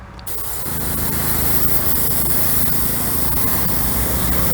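An airbrush sprays House of Kolors Oriental Blue paint in a quick tack coat, a steady, loud, close hiss of air and atomized paint that starts abruptly and holds constant throughout.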